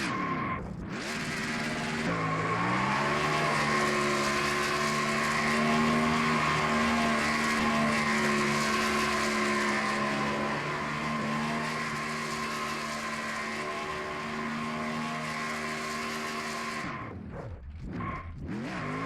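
A race truck, number 83, doing a burnout at Circuit of the Americas, a loud sustained engine roar with screeching tires that holds steady for about fifteen seconds before cutting off sharply.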